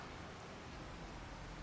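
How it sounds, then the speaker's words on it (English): Rain in the video game Farming Simulator 25 makes a faint, even hiss of falling water with no voices over it. "I know it's still raining"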